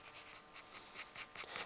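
A dark ochre pastel pencil is worked on its side across paper with light pressure, giving close, soft, rhythmic scratching strokes in quick repeated bursts.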